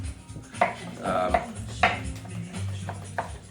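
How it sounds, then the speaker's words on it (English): Chicken shawarma being chopped into small quarter-inch cubes on a cutting board, a few irregular knife thuds and clacks close by with low background rumble and no talk. "now we've got our shawarma cut up"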